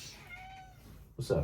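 A pet cat lets out a drawn-out, rising meow close by, followed by a person speaking briefly.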